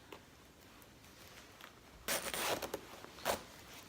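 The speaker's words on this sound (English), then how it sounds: "when you zip it up" A clothing zipper on a pre-pregnancy garment is pulled up in one quick, rasping stroke, followed a moment later by a shorter tug, close and fairly quiet against a soft background.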